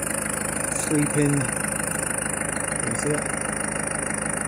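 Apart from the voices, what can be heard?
2001 Peugeot Boxer 2.8 HDI diesel engine idling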